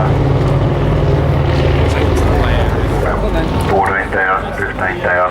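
Lockheed Constellation propeller airliner engines run at maximum power in a loud, continuous, heavy roar that holds steady throughout, with voices talking over it toward the end.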